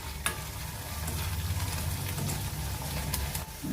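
Handful of coriander leaves sautéing in a hot pan for a butter beans masala, giving a steady close sizzle and soft stirring scrape for a few seconds with no talking.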